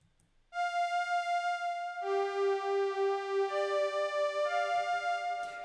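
A dry, unprocessed synth lead for a beat plays sustained bright notes that shift pitch every second or two, loud and alone over silence.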